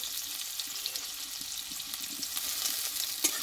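Crushed garlic cloves and onion fry in hot oil with a continuous close sizzle and small crackles and pops.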